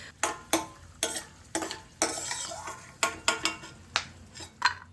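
Dry fruits and whole spices frying in a pan for pulao, with a spoon scraping and stirring in repeated sharp strokes over a soft sizzle.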